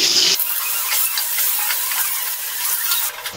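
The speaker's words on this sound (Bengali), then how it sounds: "তেলটা গরম হয়ে গেছে, এই তেলে আমি আলুগুলো ভেজে নেব।" Potatoes coated in salt and turmeric fry in hot oil, a steady broadband sizzle with crackling texture that holds at even loudness for a few seconds, with no voices.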